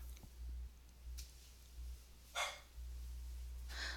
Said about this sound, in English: that's my puppy barking at somebody who's walking by